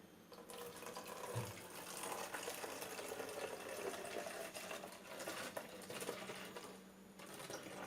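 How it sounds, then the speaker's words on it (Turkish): Liquid pours in a steady, faint trickle into a plastic spray bottle for several seconds, a continuous gurgling flow heard close up with no talking. "Bunu sprey kutumuza boşaltacağım."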